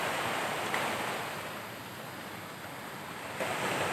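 Sea surf washes onto a seaside shore as a steady, broad roar, swelling and easing gently over several seconds, with wind buffeting the microphone.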